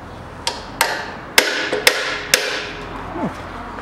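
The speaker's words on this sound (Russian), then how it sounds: "вот эту втулку сейчас молоточком тукну, и она пойдет уже легко" Small hammer tapping a bushing on a 2003 Toyota Caldina engine: five sharp metallic taps, unevenly spaced and close, each with a brief ringing decay, with no talk.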